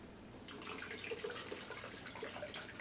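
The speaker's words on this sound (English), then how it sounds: "So we're going to put a bunch of that coconut water in there." Organic coconut water pouring into a blender for a green smoothie, a steady close liquid splash running for a few seconds without speech.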